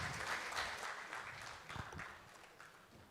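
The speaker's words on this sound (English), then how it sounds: "Can we have a round of applause, ladies and gentlemen?" An audience at a corporate annual business meet applauds, a faint, fairly distant patter of clapping with a few louder bursts that gradually thins out.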